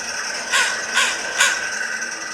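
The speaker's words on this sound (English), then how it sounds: "the wind blowing through the rocks and the crows cawing" Three loud, harsh caws from a crow, evenly spaced about half a second apart, standing out over a faint outdoor background.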